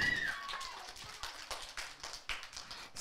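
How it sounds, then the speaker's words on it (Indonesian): Scattered clapping from a small crowd of kindergarten children and audience at a school performance, uneven and fairly quiet, with no voices over it. "Beri tepuk tangan yang meriah untuk Adrian dan kawan-kawan."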